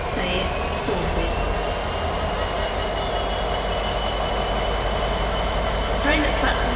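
A train at a platform of Doncaster station, a loud continuous rumble of rolling wagons and wheel noise with a faint squeal, steady throughout.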